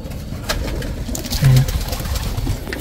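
Domestic pigeons cooing in a loft among nesting birds, a soft low coo swelling briefly near the middle over a quiet rustling background, close by.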